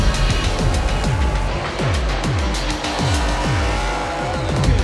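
A Red Bull NASCAR-series race car spins donuts on asphalt in a Kyiv street show, its engine roaring continuously with repeated rising and falling revs and squealing tires, loud and close throughout.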